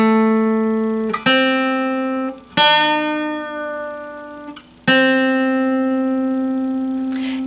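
Electric guitar plays a slow blues riff in A, sustained notes struck one after another and left ringing, with a bent note sliding upward.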